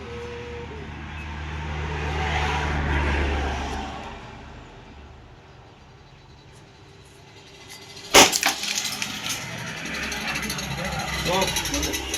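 A coconut is smashed on the ground in front of a vehicle: one sharp, loud crack followed by a brief scatter of rattling fragments, set against vehicle noise and people talking nearby.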